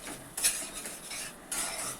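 Garam masala spice paste frying and being stirred in a pan for a matar paneer curry, with a steady close sizzle and scraping stir strokes in bursts.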